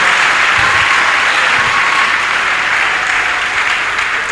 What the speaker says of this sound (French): Acclamez grandement pour le Seigneur.